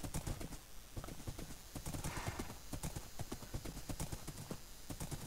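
Horse hooves clip-clop in a steady, quick rhythm while riding through a Minecraft recreation of Amiens, a crisp run of close, evenly spaced hoof strikes with no talk over them.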